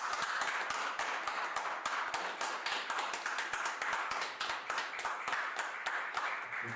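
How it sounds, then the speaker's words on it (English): An audience claps together in a dense, steady patter of many hands, sustained at an even level for the whole stretch, close and lively. "we're gonna clap these away"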